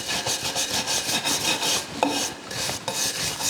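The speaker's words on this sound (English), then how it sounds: "we can clean that up with a wire brush" A wire brush scrubs the end grain of a turned wooden platter in rapid, rhythmic rasping strokes, close and fairly loud, with a couple of light knocks and no talk.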